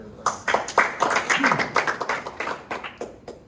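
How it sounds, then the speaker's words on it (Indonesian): Audience applause at a community meetup in Surabaya: a burst of close, uneven clapping with distinct individual claps that thins out toward the end, with people talking alongside. "Tepuk tangan."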